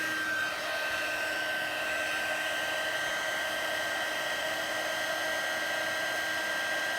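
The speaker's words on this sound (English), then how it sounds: "And now we're going to use the heat tool." A handheld heat tool blows steadily for about seven seconds while embossing powder is melted on a Halloween card stamped with a Stampin' Up! Potions & Spells set, giving a loud, continuous whooshing hiss with a thin whine and no talk.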